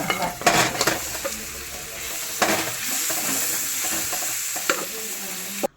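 Onion, chili, pepper and crushed jackfruit are stirred as they fry in a pan: a steady close sizzle runs throughout, with repeated scraping and clinking from the spoon against the pan.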